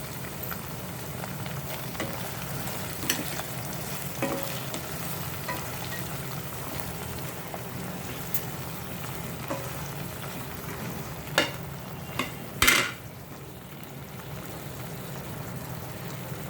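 Paneer chilli stir-fries in a pan with soy sauce, a continuous close sizzle and crackle carrying occasional spatula scrapes and a couple of sharper clatters near the end, with no talking.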